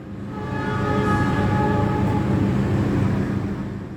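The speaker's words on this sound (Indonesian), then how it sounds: "Yang menyusul masuk dari arah belakang kita di jalur 4 stasiun Kroya itu adalah kereta api Bima." Bima passenger train pulling into Kroya station on track 4, a steady loud rumble of wheels and engine that swells up and eases off again over a few seconds, with no voices.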